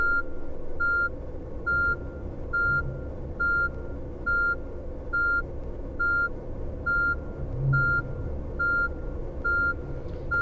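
Steady reversing beeps from a tourist bus in Tourist Bus Simulator, a regular evenly spaced electronic tone over a low engine rumble, loud and unbroken with no talk.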